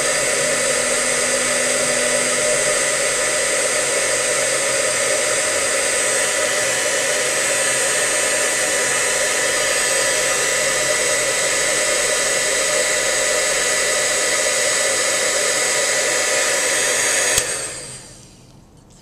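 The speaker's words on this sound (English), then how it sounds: "the heat gun has actually heated" A heat gun blows hot air to curl a ribbon flower petal, giving a steady loud airy roar that runs unbroken for about seventeen seconds before cutting off abruptly.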